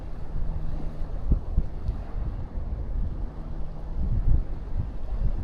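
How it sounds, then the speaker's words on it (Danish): Strong offshore wind on shallow Roskilde fjord, a steady low rumble of gusting air buffeting the microphone, loud and continuous with no talk. "I dag er der stiv vind, og der er fralandsvind."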